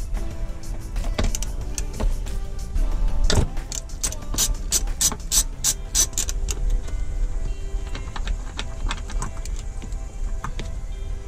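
A ratchet works a seat belt bolt loose in a BMW F30, a run of quick clicking strokes with a sharper knock early on, close and fairly quiet against a faint background hum.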